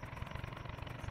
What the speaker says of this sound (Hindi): चलने लग रहा है ट्रैक्टर हमारा, लंबी ट्रॉली लग रहा है